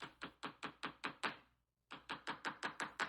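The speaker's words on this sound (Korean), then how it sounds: "곧 늑대가 문을 두드렸어요." Storybook sound effect of knocking on a wooden door: two quick runs of about six sharp, evenly spaced knocks each, separated by a short pause, close and clear with no voices.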